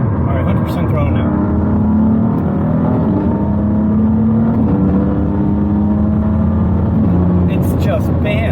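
A car engine held at full throttle after a flash tune, a loud, steady, droning roar that sustains without break, with a voice talking over it.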